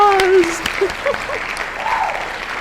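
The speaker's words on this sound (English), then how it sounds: "Yay! Applause!" A short canned applause effect from the KFC dating sim video game, a bright crowd clapping burst with a voice speaking over it.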